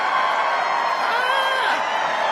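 Steady roar of a large crowd cheering and whooping in a played recording, continuous and dense throughout with no pauses.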